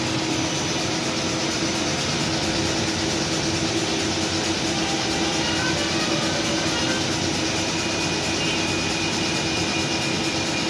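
A Fanuc CNC lathe running a G70 finishing cycle at reduced feed, spindle capped near 1800 rpm, gives a steady, continuous machine hum with broadband whir, constant and moderately loud throughout with no talk.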